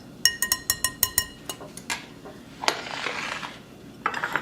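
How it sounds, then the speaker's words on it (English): Dry baking ingredients (flour, salt, baking powder and sugar) are stirred in a bowl with a utensil, giving a quick series of bright clinks and taps against the dish followed by softer scraping and rustling, close and with no talking. "Mix all those ingredients."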